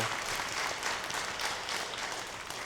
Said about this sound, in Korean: 난 박수로 감사하겠습니다.